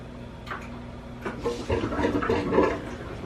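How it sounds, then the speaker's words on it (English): Aquarium fish tank equipment switching back on, with water gurgling and bubbling rising from a quiet low hum into a fuller, close splashing burble. "Cheese is getting covered in bubbles as the fish tank turns back on."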